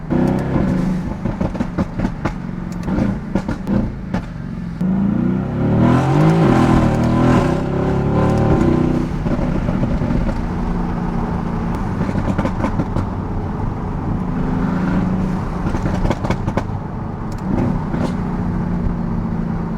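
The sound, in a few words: Mercedes-AMG GT S twin-turbo V8 revving, exhaust pops echoing off barricades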